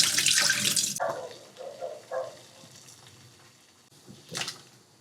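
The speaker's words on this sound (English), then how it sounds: "Now the water is already boiling and I'm gonna place the potatoes there very calmly and" Potatoes lowered into a pot of boiling water, opening with a brief watery splash and rush, followed by quieter bubbling and a couple of small clinks and splashes.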